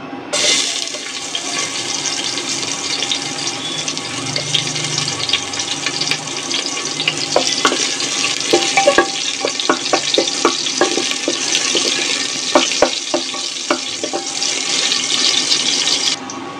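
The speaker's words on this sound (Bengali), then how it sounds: "তেলের মধ্যে দিয়ে দিব দুটি মাঝারি সাইজের পেঁয়াজ কুচি" Two medium chopped onions fry in hot oil with a steady, dense sizzle, close and continuous, with occasional sharper crackles and stirring clicks.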